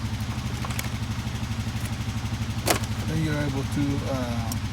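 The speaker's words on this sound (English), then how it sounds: "So you pull a couple times with the pull starter, and that makes a little compression into the engine" A 2008 Honda TRX500FA ATV engine runs with a steady, rapid low chugging and mechanical clatter throughout, then a voice talks over it in the last couple of seconds.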